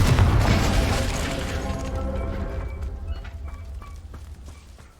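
A fiery spell blast in the fantasy video game Hogwarts Legacy, a loud booming explosion with a crashing burst that fades into rumbling debris and scattered crackles.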